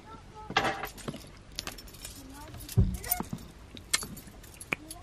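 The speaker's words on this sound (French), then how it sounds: "Clé Volkswagen." Volkswagen car keys jangle and clink up close in a few bright bursts, with light handling sounds and a quiet voice around them.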